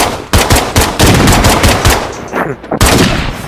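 Loud, sustained automatic gunfire in the zombie survival game State of Decay 2, aimed at zombies' heads: rapid dense bursts with brief pauses, close and dominant.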